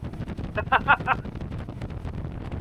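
Low wind rumble and buffeting over a moving Wellcraft 28 T-Top boat, with a few brief voice-like sounds rising in the middle.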